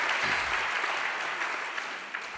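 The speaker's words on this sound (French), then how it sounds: "On peut les applaudir." An audience applauding at a national congress, a dense, steady wash of clapping from a large crowd that holds for a couple of seconds and begins to thin.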